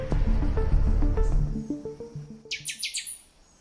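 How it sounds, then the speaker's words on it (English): Wild birds call in the open: a layered chorus of tonal whistles and warbles, then a quick series of bright, high chirps repeating near the end, clear and moderately close. "Birds."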